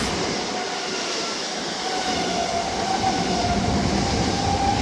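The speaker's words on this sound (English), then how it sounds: "For the 379s are approaching now" Class 379 electric trains approach at Hitchin station on the East Coast Main Line, a loud, steady rush of wheels and motor hum building as they draw close, with no voices.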